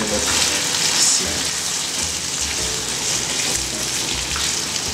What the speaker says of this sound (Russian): И продолжаем жарить вместе еще минут